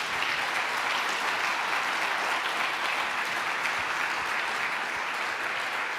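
A Portuguese-speaking church congregation at a Sunday service claps hard and continuously, an even, unbroken roar of applause that fills the room at a steady level from start to finish.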